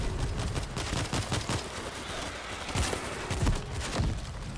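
Rapid gunfire crackles in dense bursts through a World War Z Aftermath match in the Kamchatka level, with sharp repeated shots over a busy background of game noise.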